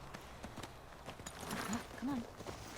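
Horse hooves clip-clop softly at a walk in The Last of Us Part 2, faint beneath talking.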